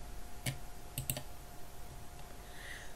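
Three sharp computer mouse clicks, one alone and then a quick pair, sound close and clear over a faint steady hum while someone creates a new presentation in Apache OpenOffice Impress.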